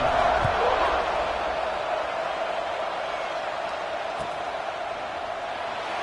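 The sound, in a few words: football stadium crowd buzzing after a score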